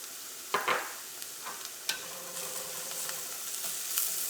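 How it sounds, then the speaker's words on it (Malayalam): Turmeric powder frying in coconut oil on medium flame with ginger and garlic, a soft continuous sizzle with a few sharp spoon scrapes against the pan. "ഈ മഞ്ഞൾപ്പൊടിയും ഈ വെളിച്ചെണ്ണയിൽ കിടന്നിട്ട് നന്നായിട്ടൊന്ന് മുരിയണം"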